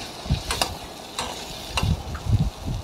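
Pumpkin peel and potato bits are stirred in a frying pan over low heat, giving a few scraping, rustling strokes over a soft steady sizzle, close and moderately loud with no talking.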